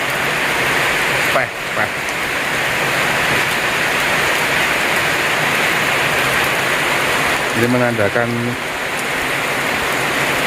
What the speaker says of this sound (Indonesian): Alhamdulillah hujan.